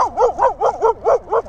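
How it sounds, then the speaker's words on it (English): A dog barks at sport bike riders, six sharp, evenly spaced barks, loud and close, in a steady quick rhythm. "Where did this dog come from, man?"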